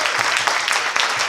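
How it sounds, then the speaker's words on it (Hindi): Seminar audience on business mindset claps loudly, a short burst of dense, continuous applause filling the whole moment. "तालियां बजानी है तो जोर से"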